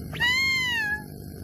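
A cartoon cat lets out a single clear, drawn-out meow lasting under a second, tonal and slightly falling in pitch, alone over faint background.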